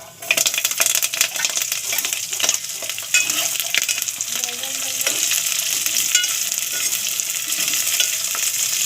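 Sliced onions frying and sizzling in hot oil for a cashew curry, a dense steady crackle with occasional stirring clinks, close and loud throughout.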